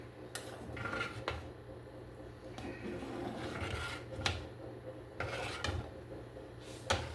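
Stirring a pot of split pea soup with ham: faint scraping and rubbing of a utensil against the pot, with several sharp clinks spaced irregularly under a low background hum.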